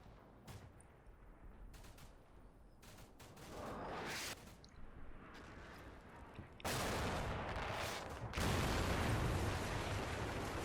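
Gunfire from the war game Combat Mission Shock Force 2: broadband bursts of shots and fusillades that grow louder and denser toward the end, with heavy rolling reports in a battle scene.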